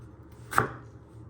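A single crisp knife chop through tomatoes lands on a cutting board, one short close thud amid quiet kitchen background.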